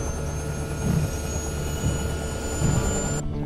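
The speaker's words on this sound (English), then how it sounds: "This helicopter is fitted with a new high-definition camera system, the heli-gimble." A filming helicopter fitted with a gimbal camera system drones steadily nearby, its engine whine constant with rhythmic rotor thumps pulsing underneath, no voices heard.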